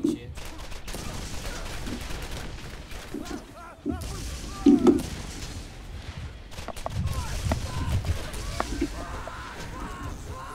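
Gunfire in the video game Borderlands, bursts of shots scattered through the scene with a louder burst in the middle, mixed with game effects and people talking over it.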